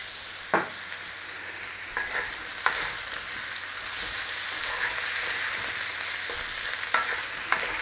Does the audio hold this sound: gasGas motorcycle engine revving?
no